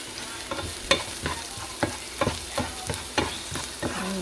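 Garlic fries in a pan under a constant close sizzle, broken by regular scraping knocks of stirring at about two per second, with no talk.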